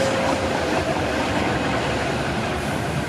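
A steady rail rumble with a faint high whine as a tram-train rolls past nearby in Sheffield, continuous and unbroken.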